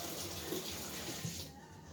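Tap water runs in a steady close stream as a small fresh bay leaf is rinsed, then the flow stops abruptly after a moment.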